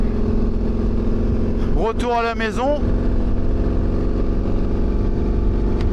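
A loaded Yamaha 750 XTZ motorcycle rides along on cold tyres, its engine a steady close drone with rushing wind throughout, while someone speaks briefly over it.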